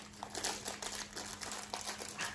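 A crinkly food package torn and rustled open at a breakfast table, a steady run of close, bright crackling crinkles over about two seconds with a faint hum beneath.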